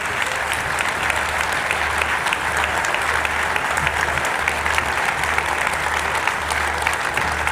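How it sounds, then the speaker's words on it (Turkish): A large audience applauds steadily and loudly at the Akkuyu Nuclear Power Plant ceremony marking the first nuclear fuel delivery. The clapping is dense, sustained and continuous, with a faint low hum underneath and no speech. "Alkışlar Türkiye Cumhurbaşkanı Sayın Recep Tayyip Erdoğan ve Rusya Federasyonu Devlet Başkanı Sayın Vladimir Putin için."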